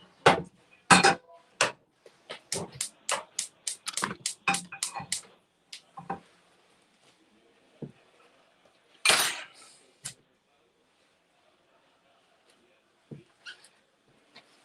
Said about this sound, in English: now I'm just gonna take out a little frying pan